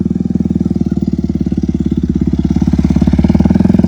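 A motorcycle engine idles and runs loud and close during stunt riding practice, with a steady rapid thumping pulse that swells slightly toward the end.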